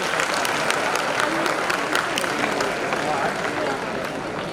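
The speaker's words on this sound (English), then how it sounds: "First you should applaud because you are bold." Audience applause at a college MBA talk event with a space scientist guest, steady dense clapping throughout with some crowd noise and voices underneath.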